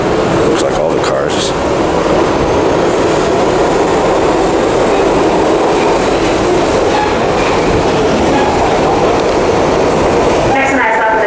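A New York subway shuttle train heading to Times Square runs with a loud, continuous rumble and rattling clatter of wheels on track. Faint muffled voices sit underneath, and a thin squeal rises near the end.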